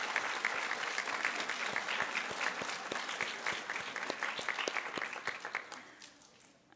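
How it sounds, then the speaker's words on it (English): An audience at an 8th grade moving-up ceremony claps for the parents in a dense, steady round of applause with many overlapping hand claps, which thins and fades toward the end. "Let's offer a nice round of applause to your parents this evening as you recess out"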